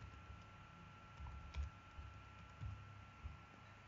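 A few soft, sparse keyboard taps at a computer while entering text into a database application, faint and distant over a steady low hum.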